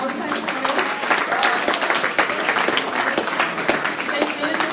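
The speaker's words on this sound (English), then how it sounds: "let's give our teams a round of applause." A student election debate audience gives a round of applause, sustained crowd clapping with a busy, crackling texture that holds at a fairly even level throughout, fairly close and loud.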